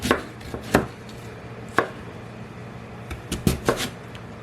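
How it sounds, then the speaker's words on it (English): A knife slices through sweet potato on a cutting board, giving sharp, close thuds in an irregular pattern of single chops and quick pairs. "Okay, then I can slice the rest of it."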